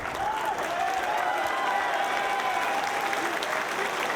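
A wrestling crowd in Dayton applauds at a Samoa Joe vs CM Punk match, with steady, dense clapping and a faint background roar throughout.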